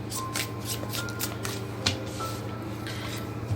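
Tarot cards being shuffled by hand: soft, continuous riffling and flicking of card stock with a few sharper snaps, close and fairly quiet, with no talk.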